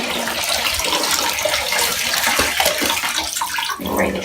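Sloshing and dripping water as a wig is lifted out of a basin where it has soaked for several minutes, a steady close wash of splashing and trickling throughout.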